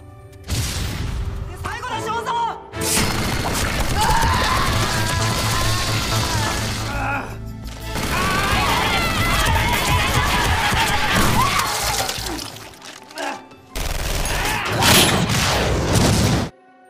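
Film-scene gunfire and explosions: dense bursts of automatic fire, crashes and booms in loud stretches broken by short pauses, under someone narrating.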